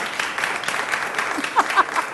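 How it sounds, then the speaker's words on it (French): Applause from a studio audience during a French after-work TV show, a steady close wash of clapping with a voice briefly calling out over it. "Voilà, on applaudit."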